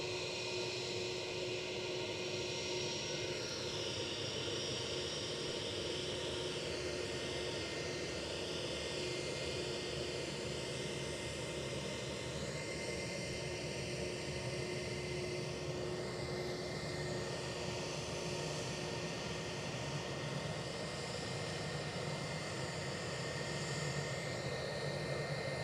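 Aircraft at Edinburgh Airport heard from a distance, a steady engine roar and hum that shifts slowly in pitch across the whole stretch, continuous and fairly faint, with no talking.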